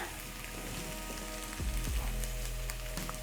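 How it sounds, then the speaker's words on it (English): Garlic and ginger sizzle in a pan for a pork stew, a soft continuous frying crackle with a low hum beneath and a brief stirring scrape near the end. "garlic and ginger cooking"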